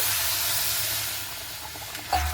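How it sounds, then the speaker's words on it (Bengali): Milk poured into semolina being fried in ghee in a pan, producing a steady loud hiss and sizzle that softens slightly, with a brief clatter near the end. "এরপর আমি এখানে এনেছি দুধ যে দুধটাকে আমি দিয়ে দিচ্ছি"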